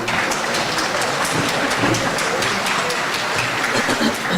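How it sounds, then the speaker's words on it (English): An audience at a career and technical education signing day event breaks into loud, sustained applause, dense rapid clapping continuing evenly throughout. "Let's give them a round of applause, please."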